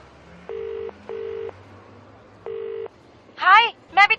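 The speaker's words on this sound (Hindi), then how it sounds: "फिर कॉल मिलाया।" A phone call being placed: three evenly spaced beeping ring tones, followed by brief bursts of voice at the end.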